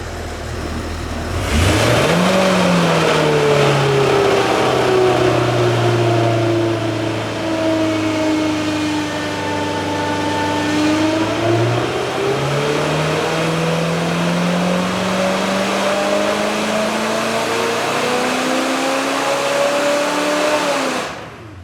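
A junkyard 289 Ford V8 that sat for over 45 years roars on an engine dyno, climbing steadily in pitch through a long loud pull, easing slightly midway, then rising again before cutting off abruptly.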